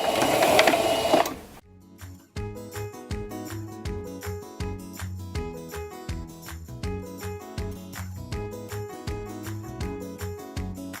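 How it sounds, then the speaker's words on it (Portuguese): A sewing machine runs close by, stitching fabric with a steady rhythmic whirring hum. A short burst of noise comes at the start, then the stitching continues without a break. "aí eu saio da máquina e aí venho pra cá pra continuar a costura aqui, ó, na diagonal direitinho"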